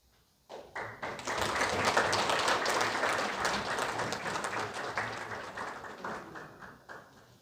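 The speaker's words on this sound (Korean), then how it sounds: "다시 한번 큰 박수 부탁드리겠습니다" An audience claps at a launch ceremony and regular meeting of a Jeju City peaceful-unification advisory council. The applause starts abruptly, swells to a full, dense round and tapers off gradually, with scattered individual claps.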